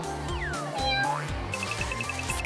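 A kitten meows repeatedly in a rising and falling pitch, fairly close and clear over a steady background of music, in a cartoon scene at an airport.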